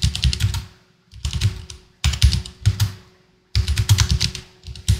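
Fast typing on a computer keyboard, close and fairly quiet, in three bursts of rapid clicking separated by short pauses, with no talking.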